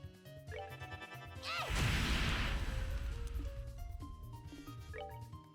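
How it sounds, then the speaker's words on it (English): A big explosion in the role-playing video game The Legend of Heroes: Trails in the Sky, a loud crashing burst that swells and rumbles for a few seconds amid game music and effects. "That is a big honking explosion, dude."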